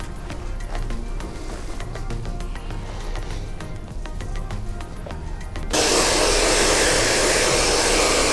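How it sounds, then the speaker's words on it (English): A hair dryer blowing over hair as it is styled, a steady whooshing hum that jumps to a much louder, closer full-power roar partway through, with no talking. "you need to start blow drying the hair the opposite direction"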